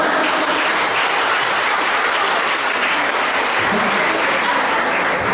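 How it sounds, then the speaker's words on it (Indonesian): Congregation at a December 2019 revival service in Lubuk Linggau, South Sumatra, bursts into loud, sustained applause, a thick unbroken roar of many hands filling the room. "Berikan tepuk tangan"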